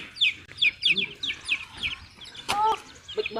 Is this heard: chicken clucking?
yes